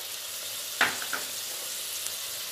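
Spices being stirred into stuffed round gourd (tinda) in a pan over a medium flame: a soft, steady sizzle with a couple of brief, faint spoon scrapes, and no talking.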